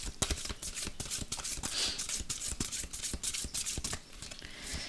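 Guardian angel tarot cards being shuffled by hand, a dense run of quick papery riffles and slaps continuing steadily and close up, with no talking.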